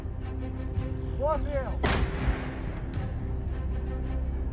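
Heavy artillery fired by Ukrainian troops from trenches at Russian positions on the eastern front: a single loud, sharp blast about two seconds in, followed by rolling rumble over steady background noise.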